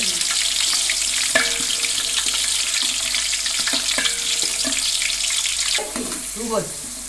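Half a kilo of onions fry for biryani in a large pot, a loud, close, continuous sizzle with intermittent scraping and clatter of stirring, and a brief voice near the end.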